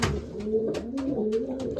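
Racing pigeons cooing close by in a loft, a repeated soft rolling coo with gentle pulses and a few light fluttery noises, steady and without speech.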